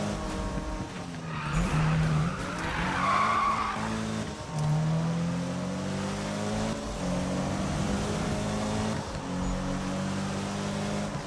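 Tires screech and skid continuously as a car drifts through corners in the Need For Speed racing game, a loud sustained squeal with engine drone and rising and falling pitch.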